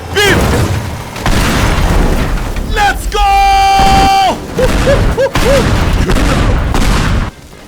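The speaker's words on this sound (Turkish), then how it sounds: "Hadi mükemmel bir patlama." Loud booming blasts from an explosion in the game Teardown, layered with game music tones and excited voices shouting and laughing over the chaos.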